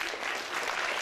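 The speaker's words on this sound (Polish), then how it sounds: "Wielkie brawa." Audience clapping at a school festival in Lubsko, a short dense burst of steady applause from a crowd.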